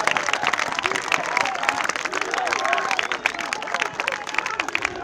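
Spectators at an afternoon battle skirmish re-enactment in Winchester applaud the warriors, steady dense clapping throughout with a murmur of crowd voices underneath.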